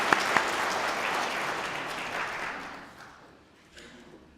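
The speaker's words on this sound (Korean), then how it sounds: "박수 한번 치고 할렐루야" A church congregation claps steadily in applause during a Sunday service for a few seconds, the sound then fading into quieter room tone.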